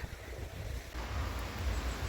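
Strong storm wind in the Netherlands buffets the microphone in a steady low roar, swelling louder after the first second and holding there with no voices.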